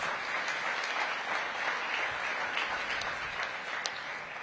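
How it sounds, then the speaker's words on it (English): An audience at a civic engagement forum in Washington, D.C. gives a big round of applause, dense continuous clapping filling the room evenly for a few seconds, fairly loud and without speech. "So let's please give her a big round of applause."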